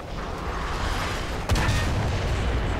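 Tank cannon fire in War Thunder with a T-60 light tank, a single sharp boom landing midway over a constant dense engine rumble and battlefield noise, close and loud, no voices.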